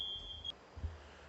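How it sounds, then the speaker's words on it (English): A single high-pitched smoke alarm beep rings out steadily for about half a second, faint and indoors, followed by low rumbling thumps and room noise. "Hold on, it's beeping again."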